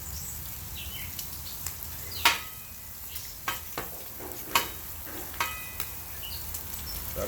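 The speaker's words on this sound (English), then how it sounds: "Try to get them pieces of bacon to where they ain't sticking together" Bacon frying on a Blackstone griddle, a steady close crackling sizzle with sharp pops and spatters scattered irregularly throughout.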